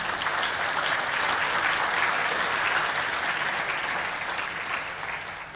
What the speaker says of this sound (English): All of you clapping